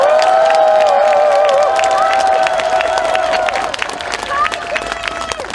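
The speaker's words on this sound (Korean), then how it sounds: "박수를 한번 쳐주십시오." A large outdoor crowd at a rally against a presidential impeachment cheers and claps, with loud sustained cheering, shouts and applause that ease slightly toward the end.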